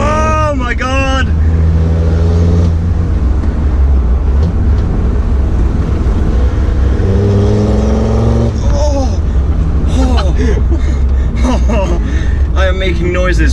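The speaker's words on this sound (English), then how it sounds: "that rasp from the exhaust" Exhaust rasp from a Land Rover Td5 Defender with a stage 2 remap, loud and close as the engine revs rise and fall, with excited talk and exclamations over it.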